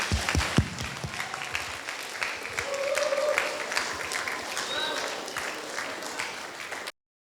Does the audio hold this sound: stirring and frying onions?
no